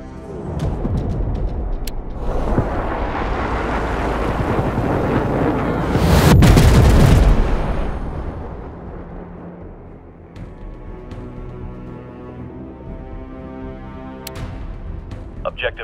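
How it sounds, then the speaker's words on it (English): Enemy airstrike explosions in the World War 3 game, a sustained rumbling roar swelling into a heavy, close blast in the middle, then settling into lower battlefield rumble with sharp cracks. "Enemy airstrike, fast!"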